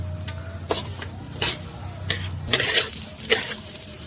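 Ingredients, seasoned with a little turmeric, sautéed in a pan for a snail (tutut) dish, with sizzling and the scrape of a utensil stirring in several distinct strokes, close and moderately loud, no talk.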